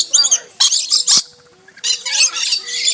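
Nectar-feeding birds squawk and screech loudly at close range in harsh repeated bursts, with a short lull in the middle before the calls resume.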